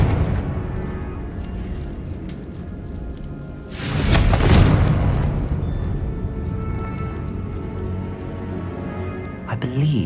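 A Confringo spell blast in the video game Hogwarts Legacy booms as a loud burst midway, over steady game ambience with rumbling background.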